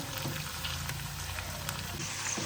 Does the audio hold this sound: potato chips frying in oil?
yes